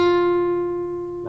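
A single guitar string, the first string, is plucked and rings out as one clear sustained note, loud at first and slowly fading over about a second.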